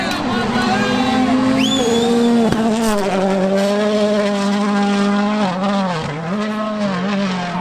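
Rally cars at the Acropolis Rally roar past close by with loud, sweeping engine tones, shifting pitch, and a sharp bang, while spectators talk over the noise.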